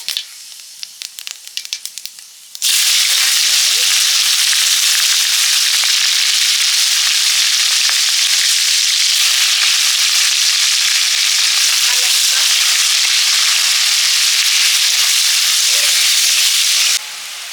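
Whole cumin seeds dropped into hot oil: a few faint clinks, then an abrupt, loud, continuous frying hiss and sizzle that holds steadily, close, before dropping slightly at the end.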